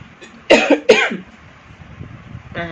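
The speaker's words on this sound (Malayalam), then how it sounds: "ഇടയ്ക്കിടയ്ക്ക് ഈ ചുമയുണ്ട് കേട്ടോ" Two sharp coughs close to the listener in quick succession, followed by quiet, then a faint voice at the end.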